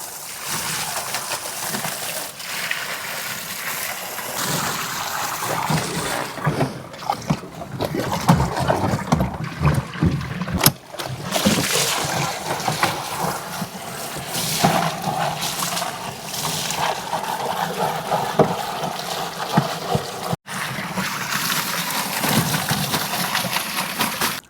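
A big pump blasts roughly 15,000 litres of water out of a large custom koi pond, a loud, steady broadband rush and splashing that runs without a break throughout.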